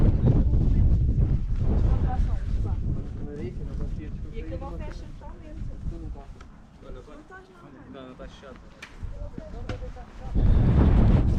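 Strong wind on the hilltop of Glastonbury Tor buffets the microphone in loud rumbling gusts that ease midway and then surge again, while a person talks through it.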